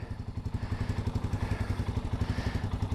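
A motorcycle idles close by, ready to ride, its engine putting out a steady rapid pulsing chug with no talk over it.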